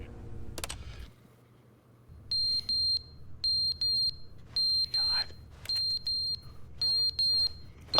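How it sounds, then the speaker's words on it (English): Repeated electronic alarm beeps from The Stanley Parable: Ultra Deluxe, sounding in regular bursts of short high tones, fairly loud and steady, after a brief low rumble at the start. "Alarm went off somewhere."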